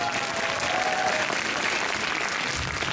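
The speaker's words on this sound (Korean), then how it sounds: "모든 참가분들을 위해서 박수 한번 치고 시작할까요?" Applause for the participants at a student research presentation contest, a dense, even roar of clapping from an indoor audience sustained throughout without talk.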